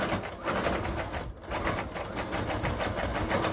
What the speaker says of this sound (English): we're going to sew right around the edges